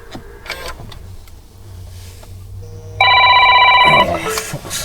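A phone rings outdoors beside an old Ford Mustang on a hot day, one loud electronic ring burst lasting about a second that cuts in over faint street ambience.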